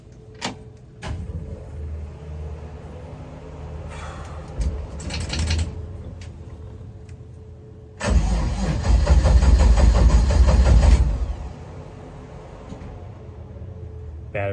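A 1955 Chevy Tri 5 with a low battery, unstarted for a while, cranks briefly, then its engine catches and runs loudly for several seconds before settling back to a quieter background, with clicks and mechanical noises beforehand.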